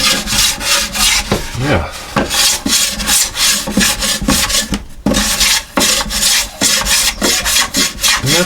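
Sandpaper is rubbed back and forth over the thin wooden top of a cigar box guitar, rasping in a steady, loud rhythm of close strokes with short pauses, and one brief spoken word.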